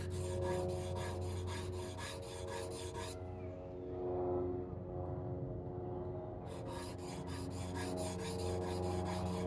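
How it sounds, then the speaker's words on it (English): Oddly shaped woodworking tools for lutherie are sharpened freehand, giving rhythmic scraping strokes that repeat in quick bursts, pause briefly mid-way, then resume, close and moderately loud over a faint steady hum. "it is necessary to sharpen all kind of oddly shaped tools, and because of that, freehand sharpening is a must."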